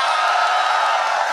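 A studio audience at a talk show roars and cheers on cue, a sustained dense wall of shouting voices at steady loudness throughout.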